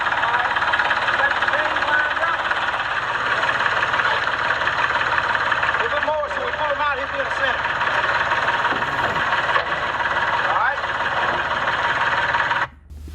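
A tractor engine idles nearby for the whole stretch at a farm hog slaughter, a constant low rumble with a faint knocking texture, before cutting out abruptly near the end.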